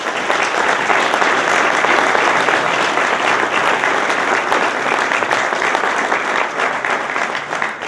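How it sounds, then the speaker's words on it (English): A crowd at an awards ceremony claps in a full, sustained round of applause that stays strong throughout and tapers slightly at the very end. "Let's give a round of applause for a series well done"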